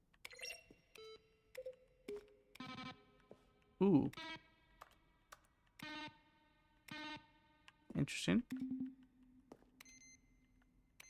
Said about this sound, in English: I like that one. It's a nice little beep.